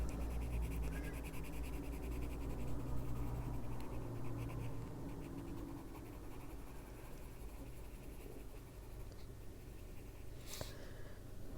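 Colored pencil shading on paper for an adult coloring pinecone drawing, a faint, close, continuous scratchy scribbling with fine rapid strokes running throughout.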